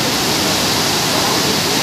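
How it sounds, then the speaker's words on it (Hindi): Dhuandhar waterfall at Bhedaghat roars as water pours over the falls, a loud, steady broadband rush filling the scene without pause. "देखिए गिर रहा है यहाँ पर पानी"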